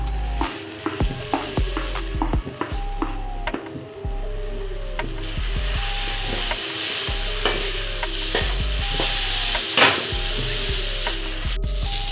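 Tomatoes fry with turmeric and powdered spices for a dried fish chutney, stirred with repeated scraping strokes against the pan under a steady sizzle, close and fairly loud, with no talking.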